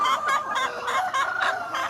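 Thai native golden chickens cluck repeatedly in short, lively bursts on a free-range farm where they forage, several birds close by and fairly loud, with no talking.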